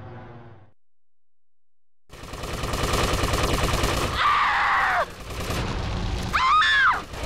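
Gunfire crackles in the video game GTA Vice City Stories: after a short silence, a sustained, loud burst of rapid shots rolls on, with game sound effects and brief voice-like cries layered over it near the end.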